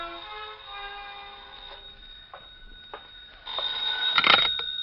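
A telephone bell rings in a classic radio noir drama, a repeated ring with a steady tone that swells louder toward the end, heard alone without talk.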